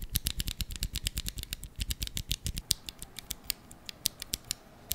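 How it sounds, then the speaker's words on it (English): ACO sponge keyboard switches soldered on a protoboard, typed on rapidly with dense clacky keystrokes, alone and close, with no keycaps fitted. "I bought some ACO switches, specifically the sponge model, and soldered them on a protoboard to try them out with our new keyboard firmware."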